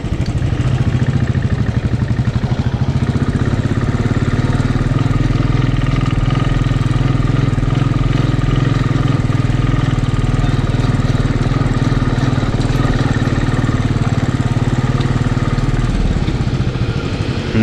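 An old Royal Enfield Bullet motorcycle running on a rough Himalayan mountain road, its single-cylinder engine thumping in a loud, steady, close rumble that holds throughout.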